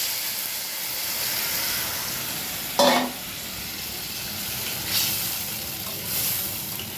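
Papaya and potato pieces sizzle in a hot pan with a steady frying hiss, broken near the middle by a brief louder burst like stirring, with a couple of softer swells later.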